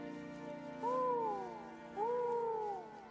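A voice imitates an owl in a Halo movie scene, giving two rising-and-falling hoots about a second apart over a low background hum.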